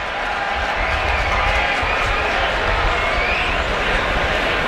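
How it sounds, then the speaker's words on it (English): A baseball stadium crowd at a Dodgers vs Cubs game keeps up a loud, steady roar of reaction, with no breaks, and a broadcast announcer talks over it. "And the crowd lets him hear it."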